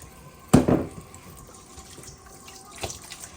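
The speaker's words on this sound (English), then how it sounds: "I'm gonna rinse this off a few times" Kitchen tap water splashing briefly over raw ribeye steak being rinsed in a sink, a short close gush followed by faint trickling.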